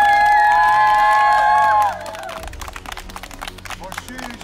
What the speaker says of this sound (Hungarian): Most sűrítsünk bele mindent egy tapsba Peti bácsnak a hét bácsnak.